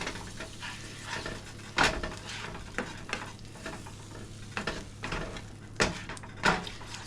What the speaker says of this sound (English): Mix that up real good.